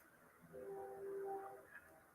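A CSX freight train passes far off near a rail yard, a faint low rumble with brief tonal squeals or horn-like notes swelling and fading over about two seconds.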